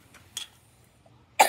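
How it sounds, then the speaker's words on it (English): A person coughs, with a short, soft burst early on and a sharper, louder cough at the very end, heard close up in a quiet room. "Why am I coughing?"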